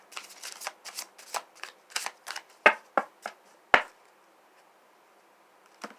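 Rapid crisp riffling and snapping of a tarot deck being shuffled, a quick run of bursts followed by a few sharper slaps, then near silence.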